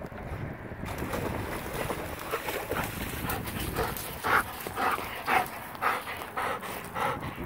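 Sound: dog

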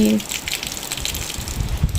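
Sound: rainwater flood gushing under a bridge

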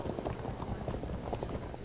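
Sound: cavalry horses moving in video game Field of Glory II

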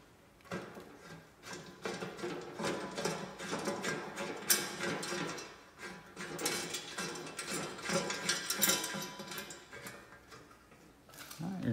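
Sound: 14 mm ratcheting wrench tightening a bolt

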